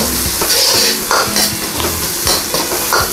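Mackerel tossed with oyster sauce and black pepper in a hot frying pan, loud continuous sizzling broken by repeated scraping and clanking of a utensil against the pan in a quick, uneven rhythm.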